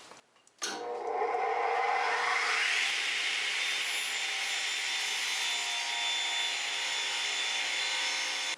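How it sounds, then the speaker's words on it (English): A radial arm saw rips through wood panels with a sharp start, then a loud, sustained cutting whine and rasp that continues steadily to the end. "we are now ready to rip with the rail arm saw"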